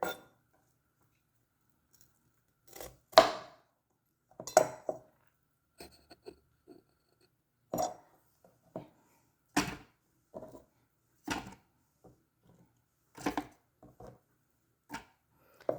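Short bursts of a small blender whirring in quick pulses, with sharp clinks and knocks between them, close by and fairly quiet.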